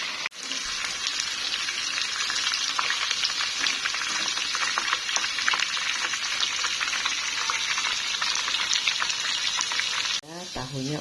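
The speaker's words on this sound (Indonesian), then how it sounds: "Ini juga aku goreng sawi." Mustard greens (sawi) frying in a pan give a steady, dense crackling sizzle with popping spatters throughout, close and fairly loud, with a brief clatter near the end.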